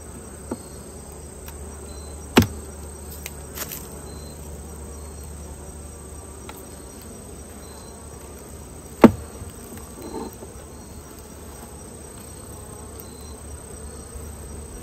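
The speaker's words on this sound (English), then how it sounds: "There's a lot of bees on that one." Honeybees hum at an open hive during a queen replacement. The buzzing is faint and steady, broken by a couple of sharp knocks.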